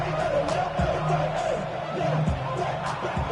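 A football stadium crowd cheers and roars in a steady din during a college game, with an announcer's commentary running over the noise.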